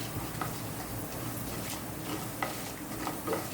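Ivy gourd fries in a pan with a constant sizzle, broken by light scraping and stirring strokes, close and alone with no voices.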